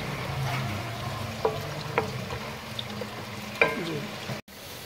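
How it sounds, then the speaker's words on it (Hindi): Onion fries in a pan for an arbi and baingan dish, a faint, steady sizzle with a few sharp clicks of a utensil against the pan, quiet and close. "इसमें प्याज डालना है। इसको मैंने अच्छी तरह ब्राउन करना है।"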